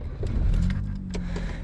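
A 4-cylinder VN Commodore cruises along, its engine a low, steady drone with faint cabin rattles, heard from inside the car.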